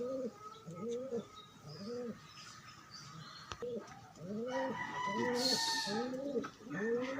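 Several pigeons coo in repeated soft, rounded phrases close by, with a rooster-like call and a brief hiss of noise mixed in near the end.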